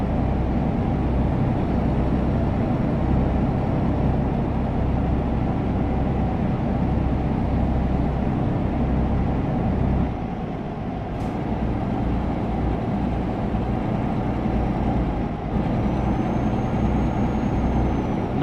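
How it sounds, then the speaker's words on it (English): A DAF XG Plus truck cruising in Euro Truck Simulator 2 gives a steady loud engine drone with a faint high turbo whistle rising over it, the drone dipping briefly midway. "Nice turbo whistle on the DAF"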